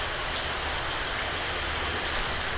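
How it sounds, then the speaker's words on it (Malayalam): Heavy rain pours steadily outside a home kitchen, a dense, even hiss that continues unbroken throughout with no voices. "ബാക്ക്ഗ്രൗണ്ടിൽ നല്ല മഴേൻ്റെ സൗണ്ട് ഉണ്ടാവും. ഇവിടെ നല്ല മഴയാണ്."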